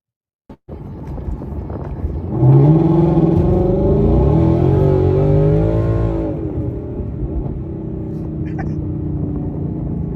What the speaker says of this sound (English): The Corsa mufflers are so damn loud